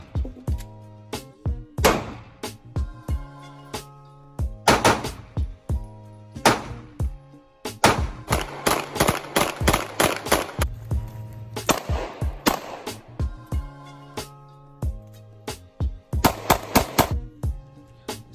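Taurus G2c 9mm handgun fired at a shooting range, sharp loud reports in steady strings and rapid clusters with brief pauses between groups, close up and without speech.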